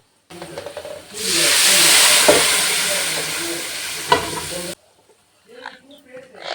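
Loud, continuous sizzling and hissing as mutton is stirred into a hot pan of sautéed onion masala, with occasional scraping clacks, then a sudden drop to quiet.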